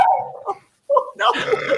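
A dog barks and yips a few times in quick, close bursts, with a whimpering edge and a brief pause between calls, loud and near.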